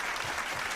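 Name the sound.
round of applause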